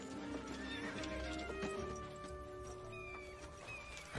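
Horses whinny and neigh loudly over a steady clatter of hooves, with a busy outdoor scene and voices mixed in.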